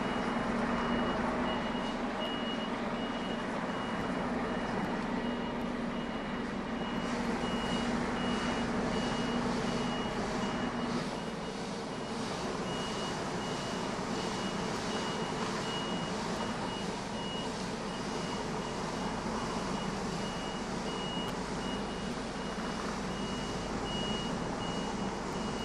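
Steady repeating reversing beeps from an HGV truck manoeuvring, with a continuous diesel engine rumble underneath, loud and close throughout with no talking.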